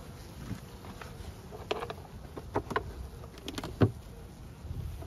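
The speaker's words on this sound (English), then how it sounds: "Lots of bees." Honey bees inside a hive under wet burlap during a mild early-February winter checkup hum softly, with scattered short clicks and knocks from handling the hive breaking through at close range.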